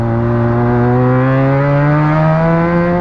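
A Benelli 300TNT motorcycle engine holds a loud, steady high rev, its pitch climbing slightly and then holding, with a harsh exhaust blast and no talk over it.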